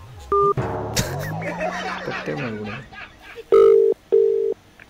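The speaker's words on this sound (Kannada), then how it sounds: "ಕಾನ್ಫರೆನ್ಸ್ ಕಾಲ್ ಹಾಕು, ಫೋನ್ ಹಾಕು" Short electronic telephone tones beep on and off as a conference call is placed, around a burst of muffled voices; two longer steady tones sound near the end, loud and close.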